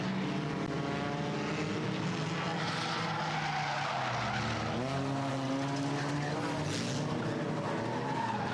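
Race car engine roaring loudly and continuously as the car slides sideways at Star Speedway, with tire skid noise and a pitch that wavers as the driver stays on the throttle.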